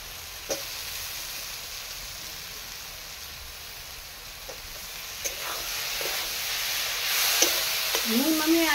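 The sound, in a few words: soaked soybean chunks added to frying spice paste, sizzling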